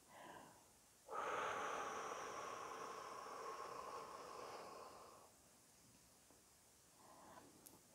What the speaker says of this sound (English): Allow it to open now as you release your breath.